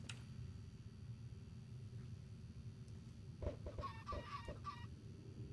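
Chickens cluck in a Minecraft-style survival game, a short burst of several quick clucks near the end over a steady low background hum.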